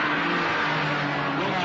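A 1978-model BMW engine with a new combustion chamber runs on a test stand, a steady droning hum with a low tonal whine, close and continuous for a moment, with a voice talking over it.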